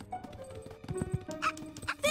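Cartoon dogs yipping in a children's animated holiday special, a few quick high yaps and whimpers mixed with background music and sound effects, with voices speaking over them.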